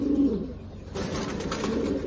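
Racing pigeons coo in low, throaty murmurs during pairing, a steady close chorus with a brief lull midway before the cooing swells again alone.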